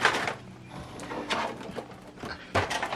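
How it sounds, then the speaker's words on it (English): An Epson WF-7840 printer is opened, with plastic clicks, a sliding scrape and a couple of sharper knocks as the cover moves, close and moderately loud. "so open up this printer."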